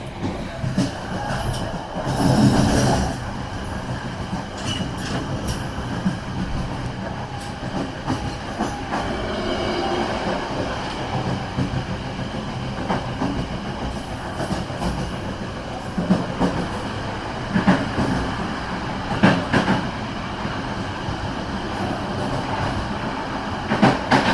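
Sawunggalih executive train on the Kutoarjo to Pasar Senen line, heard from on board as a steady rumble with repeated clickety-clack of wheels over rail joints and occasional squeals, continuous throughout.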